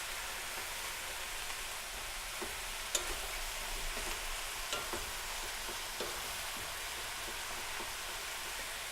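Pork and onions fry on a Blackstone griddle, giving a steady, close sizzle with a few faint clicks and scrapes of stirring across it and nobody talking.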